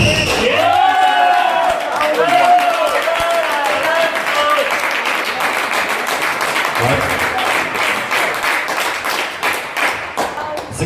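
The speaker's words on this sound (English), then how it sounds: "the cheering have gone onto a next level" A crowd at a squash quarter-final on a glass court cheers and claps steadily and loudly throughout, the sustained roar rising in energy with no talk standing out over it.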